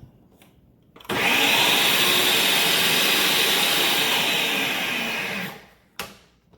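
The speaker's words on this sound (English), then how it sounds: "we're going to blend it again for about a minute until it's nicely combined" Blender whirring white rum into a pistachio coquito, switching on abruptly and running at a loud steady whine for about four seconds before cutting off, with a brief clatter afterward.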